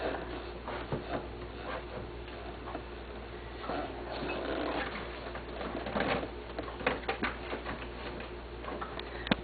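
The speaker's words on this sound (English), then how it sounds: "We're trying to catch a bird in my garage right now." A trapped bird flutters and moves around inside a garage, with faint irregular soft taps, pattering and rustling against a quiet background.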